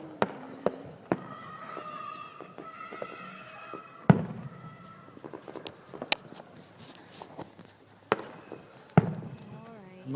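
New Year fireworks bang several times at irregular intervals, with sharp loud cracks standing out over a quieter background. People talk nearby between the bursts.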